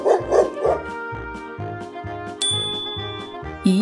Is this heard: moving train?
no